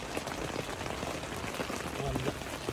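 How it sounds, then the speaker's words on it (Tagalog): Steady rain patters onto surfaces at a beach campsite at Kaiteriteri, a dense close hiss of drops with faint voices murmuring underneath. "Ulan na to"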